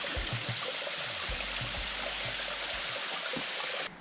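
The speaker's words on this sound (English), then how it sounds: "The nice little trickly waterfall there." Small trickling waterfall in a scenic rural setting, a steady close wash of running and splashing water with low rumbling, continuous without talk until it cuts off abruptly near the end.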